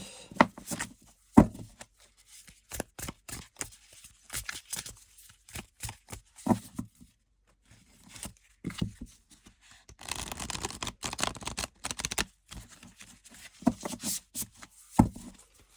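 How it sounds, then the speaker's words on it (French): A tarot deck gets shuffled in repeated bursts of riffling and card slapping, close and crisp, with short pauses between passes and a longer, denser stretch of shuffling partway through. "J'essaie de bien le mélanger parce que comme il était dans l'ordre"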